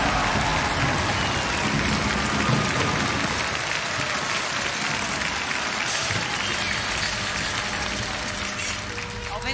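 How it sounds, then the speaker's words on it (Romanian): Audience applause welcoming a two-man guitar comedy duo onto a stage, a dense steady wash of clapping that holds for the whole stretch with faint crowd murmur. "Doamnelor și domnilor, să-i primim cu aplauze pe Paul Morocco și Marcial Heredia, împreună"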